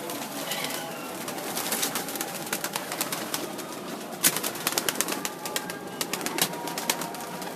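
Pigeons on a house rooftop give soft, steady cooing amid a busy outdoor wash of noise, with scattered sharp clicks and occasional wing flutters, no voices.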